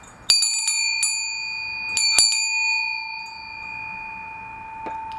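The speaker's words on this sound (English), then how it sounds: "watch your ears because here comes the bell" A bell rung to open a tarot reading space, with a sharp ringing strike followed by a second pair of strikes, each leaving a clear, sustained metallic tone that slowly decays; a faint final tap comes near the end.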